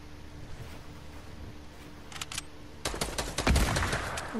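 Video game gunfire in Fortnite Battle Royale: a faint burst of rapid shots, then louder clustered cracks from a charge shotgun fight, over quiet game ambience with no talk.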